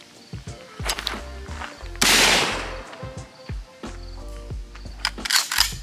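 Shotgun blasts at a clay shooting session ring out as one loud, sharp report near the middle, with lighter clicks and knocks of handling around it, close by and outdoors.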